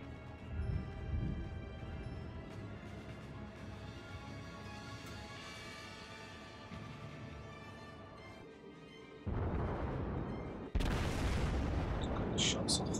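Heavy battleship guns from the Wyoming fire in World of Warships amid a dense rumbling game mix, a loud burst near nine seconds and another sharper blast near eleven seconds, then continued booming roar.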